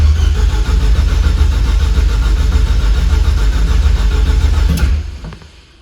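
A heavily modified Nissan Juke engine cranks hard, trying to start: a loud, steady churning drone for about five seconds before it cuts off, with no voices.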